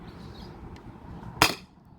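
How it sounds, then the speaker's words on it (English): A single weak shot from a CO2 air pistol nearly out of gas, one short sharp pop after a quiet lead-in, with faint background noise around it. "I'm gonna try firing, but it's probably out of gas."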